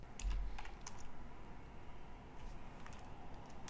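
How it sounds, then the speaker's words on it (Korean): Keys tapped on a computer keyboard while deleting a line in a code editor, a few quick light clicks near the start over a steady soft background hiss. "컨트롤 K를 눌러서 삭제를 했습니다."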